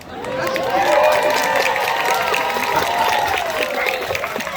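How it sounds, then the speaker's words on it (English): An audience at an outdoor birds of prey display claps steadily for several seconds, with crowd noise and voices mixed into the applause. "we have to do this until everyone applauds"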